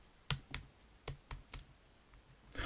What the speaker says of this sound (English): just sending some emojis using my keyboard